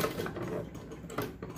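A sewing machine stitching a blouse neck piece makes a brief run of rapid, close mechanical clatter, fairly loud and continuous.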